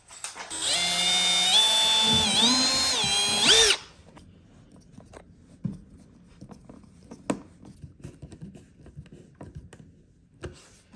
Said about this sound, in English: Take our small drill bit again, drill that little hole